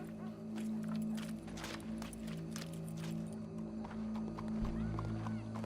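Horse hooves clip-clop in Red Dead Redemption 2, a quiet, steady walking rhythm of light knocks over a constant low tonal hum in the background.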